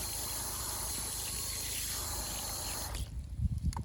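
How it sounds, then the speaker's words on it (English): Running water rinses chemicals off a cyanotype print, a steady close hiss and trickle that stops near the end, where a few soft handling thumps follow. "Just giving that a good rinse, getting all the chemicals off"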